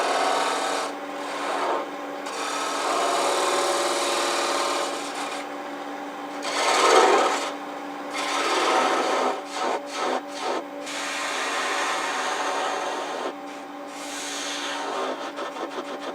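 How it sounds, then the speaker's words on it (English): A pointed detail gouge carves into a wooden clamshell box, making close, dry scraping strokes in a steady series with short pauses, followed by a quicker burst of short cuts. "I'm going to use this detail gouge with a point that I can kind of get in there pretty easily."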